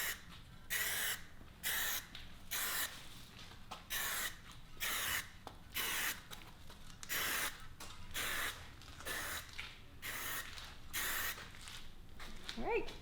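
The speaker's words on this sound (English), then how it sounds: "you're gonna wanna do one swift coat all the way around and build up some product on that edge" Superwrap gloss black being sprayed onto car wheels in repeated short hissing bursts, about a dozen in a steady rhythm, close and fairly loud with brief pauses between passes.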